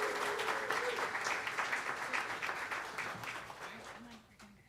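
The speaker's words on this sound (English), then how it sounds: "let's give them a round of applause" A church congregation applauds youth at a Sunday service, a sustained burst of clapping that slowly fades, with a voice briefly audible under it.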